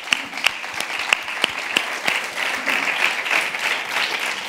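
Audience applause at a conference welcomes a guest speaker: a smaller room's worth of clapping with a few sharp, distinct claps standing out, steady and moderately close.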